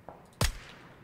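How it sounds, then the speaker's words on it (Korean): A single sharp gunshot crack in PUBG Battlegrounds, close and abrupt with a short decaying tail against a quiet background. "아주 가까운 데서 총소리 나거든요"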